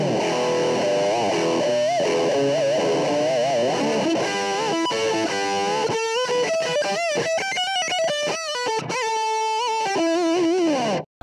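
An electric guitar plays through the distortion channel of a Yamaha amplifier, loud and saturated, moving from sustained bending notes into fast, choppy, rhythmic runs with no voices.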